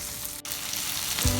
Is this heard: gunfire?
no